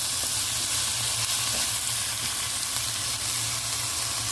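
Kimchi and bacon for fried rice frying in a pan, producing a loud, dense, continuous sizzle with occasional faint stirring scrapes, close up and without speech.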